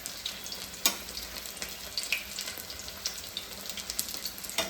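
Fish shallow-frying in oil on a tava, a continuous crackling sizzle with scattered sharp pops and spits, close and fairly quiet, no voices.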